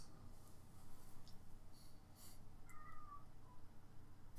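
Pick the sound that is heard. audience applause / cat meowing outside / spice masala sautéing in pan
cat meowing outside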